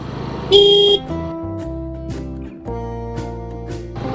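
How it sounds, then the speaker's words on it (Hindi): One short, loud vehicle horn blast sounds at a bend on the Neelkanth footpath road near Rishikesh, followed by steady droning tones and fast passing traffic noise. "गाड़ियां बहुत तेजी से आती हैं यहाँ पे, हर कट पे खुद ही हॉर्न देना पड़ेगा।"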